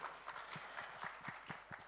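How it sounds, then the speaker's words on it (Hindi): At a film trailer launch for Baadshaho, a crowd claps faintly and distantly in a steady, rhythmic beat, about four claps a second. "एक बार जोरदार ताली होनी चाहिए"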